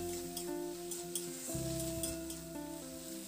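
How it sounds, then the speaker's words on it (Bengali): Spice masala with a little added water being stirred and fried in a pan, a soft continuous sizzle with light scraping of the spoon, no talking. "তো দেখুন মশলাটা মিনিট 2-3 নাড়াচাড়া করে একটু কষি নিয়েছি।"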